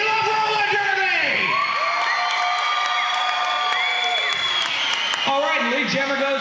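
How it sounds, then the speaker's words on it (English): A roller derby crowd cheers, whoops and applauds continuously, a dense wash of voices and high squeals that stays loud from start to finish, with clapping mixed in. "How about applause if you love roller derby?"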